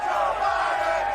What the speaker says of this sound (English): You can hear the chants from the crowd.